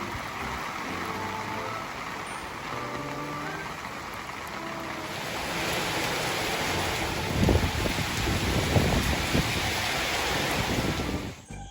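Rain falls outdoors as a steady broadband hiss that swells louder partway through, with scattered heavier patters and no voices.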